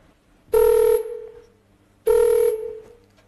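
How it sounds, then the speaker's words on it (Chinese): A telephone rings twice in a comedy stage sketch, two loud, even electronic trills about a second and a half apart, each tailing off into a short echo, with no talking. "我呀先给琳琳打个电话"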